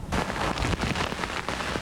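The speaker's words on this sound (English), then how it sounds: "heavy rain left rivers in the middle of streets" Heavy rain pours down steadily and loudly from start to finish, a dense close hiss of drops on streets and surfaces with no voices.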